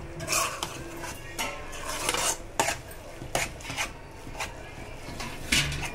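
Maggi noodles being stirred in a pan, with quick scraping and clinking strokes of a utensil against the metal. The strokes come in an uneven rhythm, close and fairly quiet.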